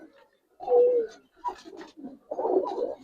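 Female Giribaz pigeons coo in soft, low, throaty bursts, a few separate rolling calls close by, with a faint voice in the background.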